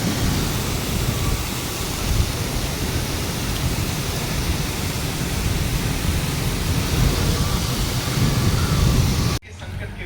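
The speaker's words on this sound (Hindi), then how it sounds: "बारिश होना स्टार्ट हो चुका है और काफ़ी तेज़ बारिश हो रहा है।" Heavy rain pours steadily as a dense, continuous roar, loud and close, cutting off abruptly near the end.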